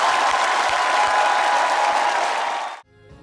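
Applause from an audience, a dense wash of many hands clapping steadily for close to three seconds before it cuts off abruptly into near quiet.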